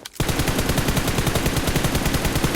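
M4 rifle firing on full auto in the video game PUBG, a loud, continuous rapid stream of evenly spaced shots that starts abruptly and runs to the end.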